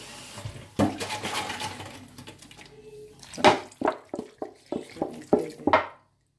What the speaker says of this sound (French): Je mets vraiment un peu les légumes, donc les tomates dans l'eau